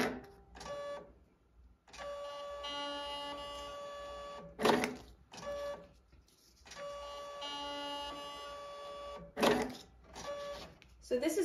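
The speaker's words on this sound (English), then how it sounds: "it should check him in and send to the printer his name tag and then the two security tags for his parents." A label printer at a check-in station prints a name tag and security tags, giving two long stretches of steady whirring tones split by sharp clicks and short beeps, fairly quiet.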